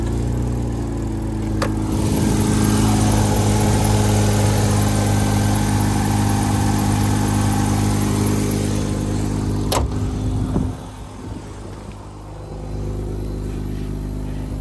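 A 2009 Hyundai Tucson V6 idling with the hood open, a loud, steady low rumble close by, with a couple of sharp clicks and a brief dip near the end, no talk.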